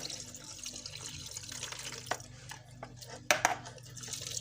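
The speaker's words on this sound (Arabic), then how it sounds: "ودلوقتي هنزل بالمحلول بتاعي اهو" Brine solution is poured into a jar of pickled lemons, heard as faint liquid trickling over low background hum, with a few sharp glassy clinks near the end.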